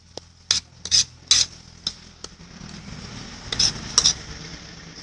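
A spoon scraping and clinking in a bowl while cocoa is mixed with sugar for tablea, giving scattered sharp taps and gritty stirring over a soft rasping bed, close and moderately quiet.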